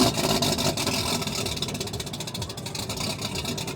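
A car on a dyno at a charity dyno day runs loud and close, its engine droning and revving steadily with a rapid pulsing rattle throughout.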